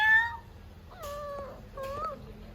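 A cat meows three times in a row: a loud first call, then two longer, wavering meows, heard close with no talk over them.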